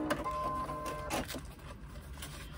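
A sewing machine stitching a seam over a basted cloth label, its motor running in a short steady burst near the start before tapering off into quiet room noise.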